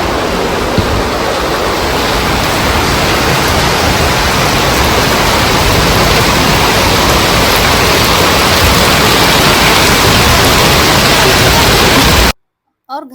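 Heavy rain pours down steadily and water rushes into a clogged drain beside a house. The loud, broadband roar stays constant for about twelve seconds, then stops suddenly.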